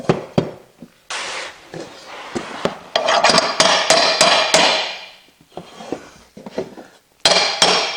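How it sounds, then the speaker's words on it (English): A hammer taps vinyl plank flooring into place with a flat tapping block during floor installation, giving loud, close, irregular metallic knocks and clatters in uneven bursts. "take this flat part right here, stick it down behind there, and tap that in"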